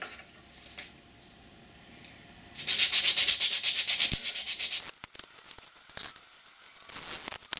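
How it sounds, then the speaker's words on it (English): Steady rhythmic scraping of sandpaper rubbed by hand back and forth over small beech wood blocks, loud and close, a burst of strokes followed by a few lighter handling knocks. "Give them a bit of a sanding."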